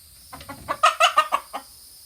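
A rooster clucks near cats as it moves in on their food, giving a run of about six sharp, close clucks that start softly and grow loud, with no talking.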